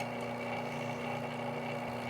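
Vacuum pump running steadily while evacuating a car air-conditioning system during an R12 to R134a conversion, a continuous close, even motor hum with a low drone and no talk over it.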